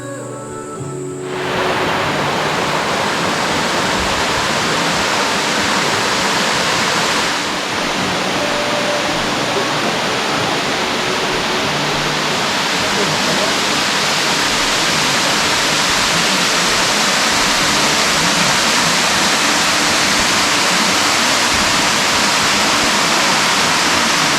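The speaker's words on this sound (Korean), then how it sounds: "은계폭포로 올라갑니다." Eungye Falls on Gamaksan mountain in Paju roars steadily and loudly, a dense unbroken rush of falling water that keeps going with no voices.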